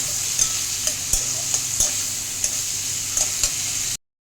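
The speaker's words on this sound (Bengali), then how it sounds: "এখন পেঁয়াজগুলো ভেজে নিই" Onions sizzle steadily in hot oil in a wok, a bright continuous frying hiss broken by a few soft clicks of stirring, close and fairly loud, with no voices.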